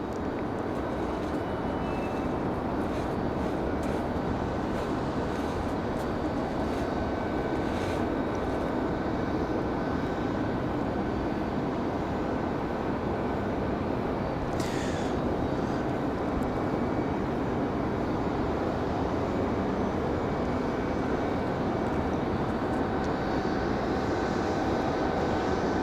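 A JetBlue airliner arriving at Raleigh Durham airport produces a continuous, loud jet engine roar that holds steady for the whole stretch, heard from fairly close with no talking.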